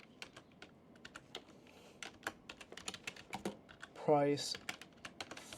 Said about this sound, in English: why am I so bad at fucking typing right now?